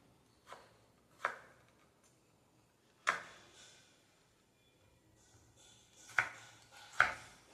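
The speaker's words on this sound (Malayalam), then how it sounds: "തക്കാളി വളരെ ചെറുതാക്കി നമുക്ക് അരിഞ്ഞെടുക്കാം." Tomatoes are finely chopped with a knife, giving six sharp, separate knocks on a board at irregular intervals with quiet gaps between.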